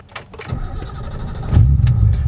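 A classic BMW E30-era car engine starting and running as the car sets off on a short drive, a low rumble swelling louder near the end, with clicks and knocks at the start.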